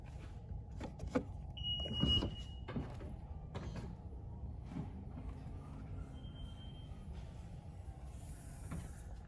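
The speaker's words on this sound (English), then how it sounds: "Let's open up the trunk." A 2016 Honda Odyssey Elite's power tailgate opening, heard as a quiet electric motor whir with a few clicks and clunks from the latch and the hatch, close and faint.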